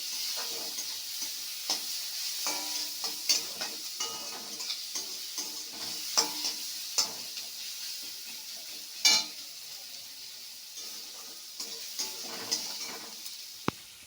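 Onions fry in a pan with a continuous gentle sizzle, punctuated by regular scraping taps of a spoon stirring.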